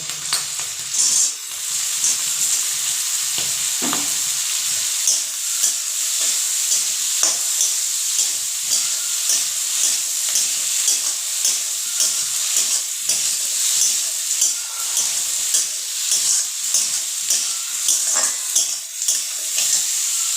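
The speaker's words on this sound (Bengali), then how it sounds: "সময় নিয়ে ভেজে নিচ্ছি তাতে একটু সময় লাগছে" Tomatoes fry in a pan for fried rice with a steady, close sizzle. A utensil stirs them with irregular scraping and clinking over the hiss, and no voices are heard.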